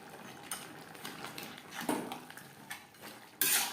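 Bottle gourd and fish head curry with chopped coriander being stirred in a pan, a few soft scrapes and clinks of a spoon against metal, close and fairly quiet, ending with a louder sizzle-like burst.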